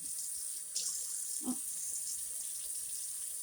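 Water runs steadily from a faucet while pork chitterlings are cleaned, with a soft continuous hiss, and a small splash or clunk sounds near the middle.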